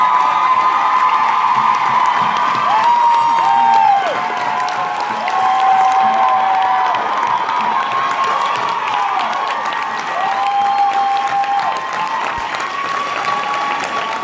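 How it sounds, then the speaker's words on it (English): A convention panel audience in Honolulu applauds and cheers loudly and steadily for the full length, with whoops and sustained high shouts rising above the dense clapping of a large crowd. "can y'all guys stand up and give her the proper round of applause?"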